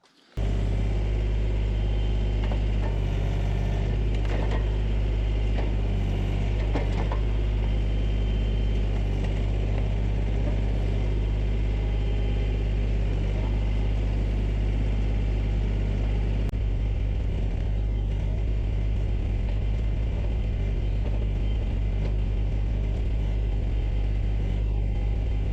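A Kioti tractor engine runs steadily at load while pulling out a stump, with a deep continuous rumble and drone throughout, occasional clanks and strain over the top, close and loud with no talk.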